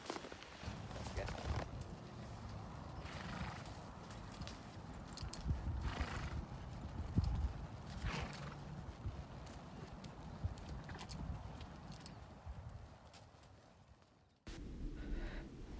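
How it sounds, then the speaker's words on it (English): Hooves of a ridden horse clip-clopping steadily at a walk, close by, with snorts and movement noises and a rider speaking at times. "I'm riding this horse right now."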